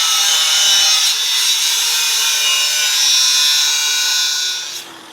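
A cutoff wheel grinding metal on a Jeep-style build, a loud continuous high-pitched shriek that holds steady for several seconds and then eases off near the end.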